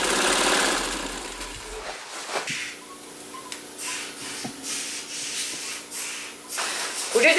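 A sewing machine stitching clothing, a steady mechanical whirr in bursts with short pauses and some rustling fabric, close and moderately quiet.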